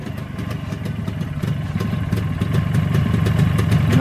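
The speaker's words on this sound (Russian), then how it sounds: "Ну вот движок, работает просто красота." Engine of a 360 motorcycle ticking over steadily at idle, close by, with a continuous low mechanical clatter and slight swelling in loudness.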